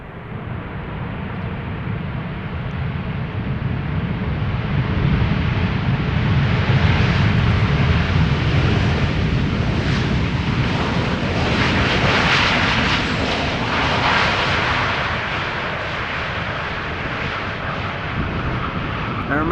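An Aeromexico Boeing 787-8 Dreamliner, inbound from Mexico City, passes at Amsterdam Schiphol with a loud, broad engine roar that swells and then eases over about twenty seconds, steady rather than sharp.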